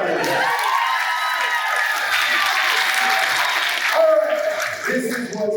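Festival panel audience breaking into loud sustained applause and cheering, a dense wash of clapping from a large crowd with a few voices shouting over it.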